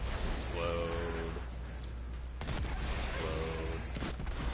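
Rapid explosions and gunfire-like bursts from the video game Destiny 2 Forsaken form a dense, loud, continuous barrage, with a sharper blast near the middle and a voice-like tone rising briefly above the clatter.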